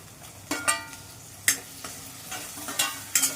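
A tomato being sautéed in a pan for a green bean and potato curry, with a soft sizzle and several sharp spatula scrapes at irregular intervals.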